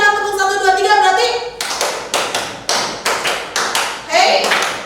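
A group of teachers claps a short rhythmic 'tepuk 1, 2, 3' pattern during a positive-culture classroom session, loud and close, with evenly spaced sharp claps following a stretch of speech.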